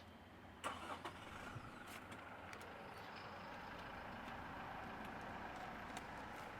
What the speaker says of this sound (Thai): เดี๋ยวผมติดเครื่องให้ฟัง